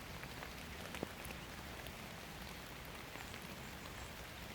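Raindrops patter steadily on nettle leaves outdoors in a woodland setting, a soft, even hiss with scattered faint ticks and one brief sharper drop.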